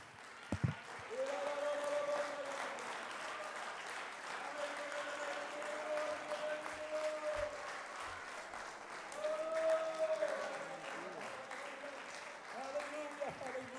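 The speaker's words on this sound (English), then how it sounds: "let's clap our hands unto the Lord" A church congregation claps steadily in praise, a sustained wash of applause with voices speaking and calling out over it throughout.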